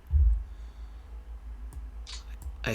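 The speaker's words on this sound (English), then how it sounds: "Sorry, I'm clicking away." A few light, sharp computer-mouse clicks during a PC strategy wargame on the Eastern Front, spaced irregularly over a low background hum, ending with a brighter clatter.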